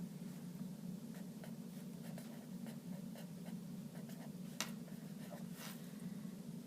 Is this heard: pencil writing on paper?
yes